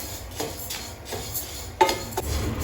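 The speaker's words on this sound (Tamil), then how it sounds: "அரிசி நல்லா பொரியுது" Parboiled idli rice dry-roasts in a pan, stirred with a metal spoon that makes a steady rustling scrape of grains, light clinks against the pan and a sharper knock near the end, close and clear.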